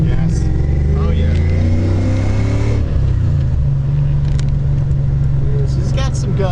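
Supercharged 1997 Ford Mustang Cobra V8 pulling hard in second gear, a loud, close engine drone rising steadily in pitch under acceleration, with a voice speaking over the roar.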